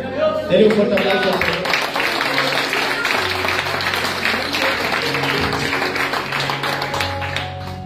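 A church congregation breaks into loud clapping during an evangelical sermon, the rapid patter running for several seconds over a sustained musical or organ tone.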